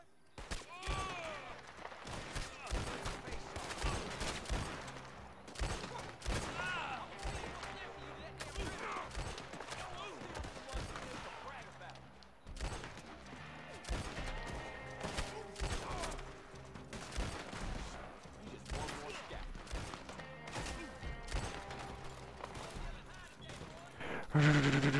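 Near-constant video game gunfire rattles through the whole stretch, with dense bursts of shots and machine-gun fire, and a voice speaks over the battle now and then.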